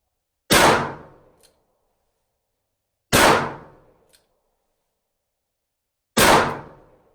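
Three single-action shots from a Dan Wesson 715 .357 Magnum revolver with a 4-inch barrel, each a sharp, loud crack with a short ringing decay, spaced about three seconds apart, with no talking.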